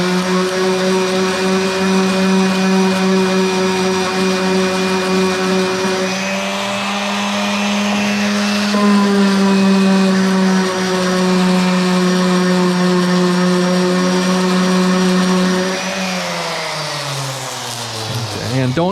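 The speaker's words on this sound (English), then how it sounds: "sand that again" A power sander whines steadily and loudly against wooden step stool legs, its motor pitch shifting slightly as pressure changes, then dropping and winding down near the end.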